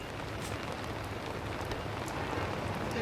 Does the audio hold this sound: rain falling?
yes